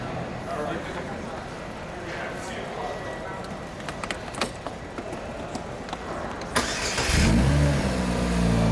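A customized 2005 Saturn Ion at an indoor car show cranks over and its engine catches near the end, rising into a loud, steady idle with a few revs over crowd chatter and nearby talk.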